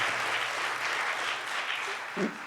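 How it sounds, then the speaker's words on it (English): Live church audience at a 2019 worship event clapping in a steady, fairly soft wash of applause with a low hum underneath and a brief murmur near the end. "you can clap for that if you want"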